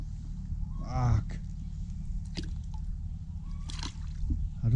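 Špekáček sausages dropped into cold water, sloshing and gurgling in a pot with a brief splash near the start, over a steady low background hum, with a voice heard briefly.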